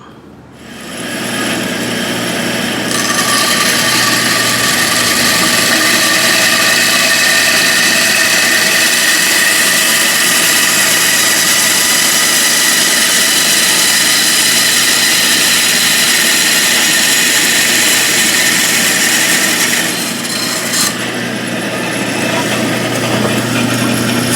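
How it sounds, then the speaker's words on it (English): A loud, steady bandsaw whine with a high-pitched roar cutting wood runs almost the whole time, dropping briefly near the end before resuming. "I'm just going to take it over to the bandsaw and try to cut it out"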